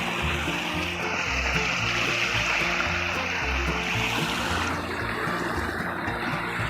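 Steady rushing water from a stream on a trek to a Mahadev temple fills the whole clip, a continuous broadband wash with a low rumble underneath, close and constant with no voices.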